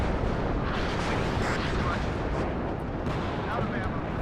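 In the WARNO video game campaign at the Fulda Gap, artillery fire rumbles in a dense, continuous barrage of booms, loud and sustained, with voices talking in the mix.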